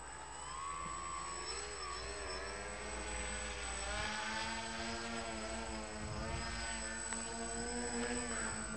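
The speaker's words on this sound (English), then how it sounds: "Dangerous to hover when it's so gusty close to the ground here." A Puddle Star drone hovering close to the ground in gusty wind, its propellers giving a steady buzzing whine with wavering pitch over constant wind rumble.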